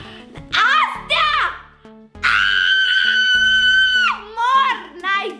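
A young girl screams and squeals with excitement while opening a mystery box of birthday gifts from America. There are several loud, high-pitched bursts, one long sustained shriek and shorter rising and falling yelps, heard up close.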